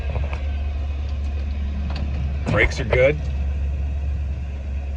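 A 1961 Chevy camper truck's engine idles with a steady low rumble under someone speaking briefly in the middle.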